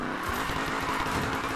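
A Mercury Cougar drifts in Need for Speed Payback: a sustained, loud engine roar mixed with tire squeal, steady and continuous through the short burst.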